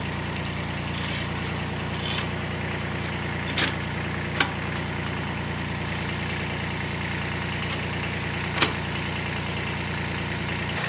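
A little old tractor idles steadily to run a Belsaw sawmill, its engine rumbling evenly and loud at close range, with a few brief clanks over the drone.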